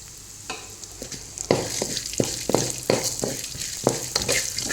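Cumin and coriander seeds fry in a pan with a soft sizzle, broken by a series of sharp scraping strokes from a stirring spoon, close and fairly loud with no speech.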